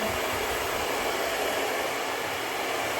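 A hair dryer blows steadily and loudly, drying hair saturated with a Keragen keratin smoothing treatment at home, a continuous close airy roar with no talking.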